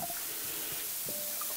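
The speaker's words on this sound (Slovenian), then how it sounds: "natočimo novo vodo" Tap water runs steadily into a cooking pot in a home kitchen, a close, continuous splashing hiss that stays even throughout.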